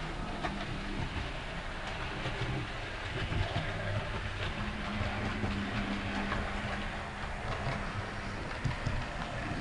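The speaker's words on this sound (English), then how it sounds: "I've got a new train, which I'll bring it in now" A model electric train rumbles and clatters steadily along its track, a continuous mechanical running sound with faint rhythmic clicks.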